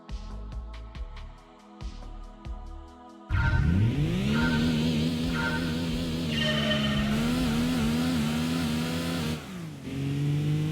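A sports car's engine accelerates in Gran Turismo 2 on the PS1 test course, revving up through rising, steady tones with gear changes, loud and continuous after a short run of quieter engine notes at the start.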